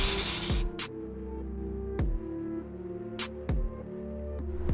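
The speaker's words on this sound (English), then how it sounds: "I'm just gonna spray some WD-40 to help get these new bushings installed." A brief hiss of WD-40 aerosol spray on new bushings of a Volkswagen MK4 GTI 1.8T, followed by a couple of shorter spritzes over a low mechanical hum and occasional clanks.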